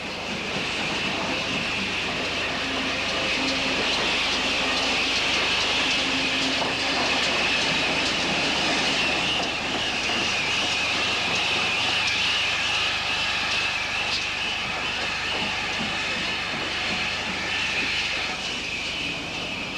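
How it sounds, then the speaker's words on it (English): Two steam locomotives drone continuously with a steady mechanical roar and hiss as they back into a loop on a British railway, loud and sustained for the whole stretch, no voices. "Note the different types of tender as the two engines back into the upwards loop to await their train."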